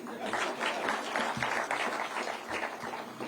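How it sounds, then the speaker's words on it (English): An audience at a government ceremony launching a climate and environment strategic plan gives a round of applause: moderate, slightly distant clapping in rolling waves with a few louder individual claps. "So we need to give that Jogoo a round of applause."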